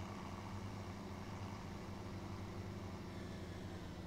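A tractor engine in a farming video game drones at a steady low pitch while it drives along a road at about 43 km/h, sounding faint and even with no talk.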